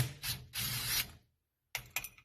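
A 10 mm ratchet wrench works a nut on a Honda Z600 brake booster, with two bursts of rapid clicking ratcheting, a brief silence, then a few more short clicks close up.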